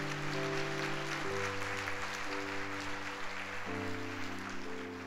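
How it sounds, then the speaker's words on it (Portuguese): A church congregation clapping during a Sunday service while sustained keyboard chords play underneath, the applause a steady wash beneath the music. "Dá um aplauso a Jesus aí"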